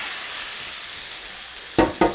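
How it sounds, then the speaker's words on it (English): A steady, loud sizzle of turkey frying in a hot pan, with a few sharper bursts of spattering near the end. "That's that sizzle that we want to hear."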